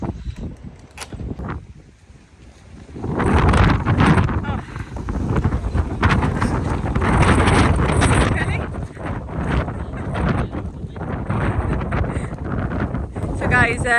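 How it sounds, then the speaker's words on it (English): Strong gusty wind buffets the microphone outdoors at a roofing job while ridges are being fitted, a steady loud roar after a quieter start, with scattered knocks and a voice heard in places. "It's really windy"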